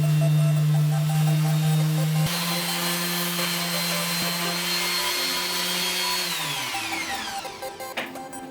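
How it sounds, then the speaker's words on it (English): A loud power planer whines steadily while leveling wooden vice jaws, then its pitch drops as it spins down near the end, close and alone without talk. "The final thing to do was level off the jaws with a planer and give it a good sand."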